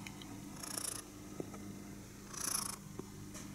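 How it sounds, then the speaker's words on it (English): A cat purrs softly and steadily at close range in a quiet indoor room, a low continuous rumble broken by two brief bursts of higher rustling noise and a few faint clicks. "Do you hear her purr? Very softly, but perhaps you can hear it."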